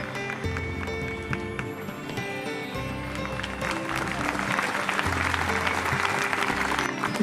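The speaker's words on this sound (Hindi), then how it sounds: "तालियां होनी चाहिए, क्योंकि ऐसे लोग जब हमारे बीच होते हैं, जोरदार तालियां।" Audience at a school traffic awareness event breaks into sustained applause, a dense wash of clapping that swells toward the end, with a voice over loudspeaker underneath.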